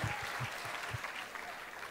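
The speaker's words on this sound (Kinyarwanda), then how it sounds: "Mu nkomera amashyi n'ukuri kw'Imana." Applause rises from the audience at a live comedy show: steady clapping from a crowd with a few low thumps, moderately loud and with no talking over it.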